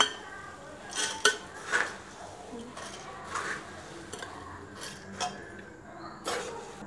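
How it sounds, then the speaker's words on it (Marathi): Puffed rice bhadang, a quick snack made for children, is served onto a plate with a scattering of close, light clinks and scrapes of a utensil against the dish over a quiet room background. "आता आपण ह्याला सर्व करणार आहे एका प्लेटमध्ये."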